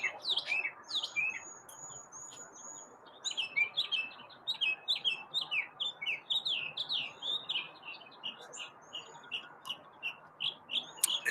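Small bird chirping on a cold morning, quick bright tweets repeated in rapid bursts, fairly close and clear over a faint outdoor background.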